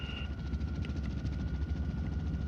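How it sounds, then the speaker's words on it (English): A large rescue helicopter hovers close to rock walls on Mount Whitney, its rotor thumping in a steady, loud, continuous drone with a low whine running through it and no voices. "The pilot had to carefully maneuver the massive helicopter to keep the rotor blades from hitting the rock walls"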